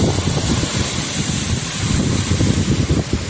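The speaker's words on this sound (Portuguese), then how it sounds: "Viu só, cara, a força do vento." Strong wind in a storm, a steady loud roar and buffeting gusts across the microphone, continuous throughout, with no voices.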